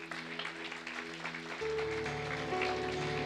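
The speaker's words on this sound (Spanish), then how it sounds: "Aplauda la presencia del Señor." A church congregation applauding during a service, a dense wash of clapping from many people with a sustained musical tone underneath, fairly faint and distant.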